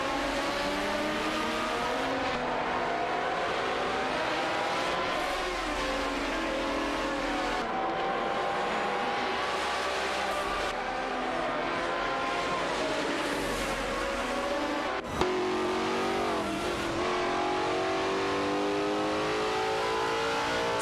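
Race cars in a video game, a Koenigsegg CCGT and a Chrysler Viper GTSR, roar continuously at high revs with rising and falling engine pitch through gear changes, loud and steady for the whole stretch with no talk.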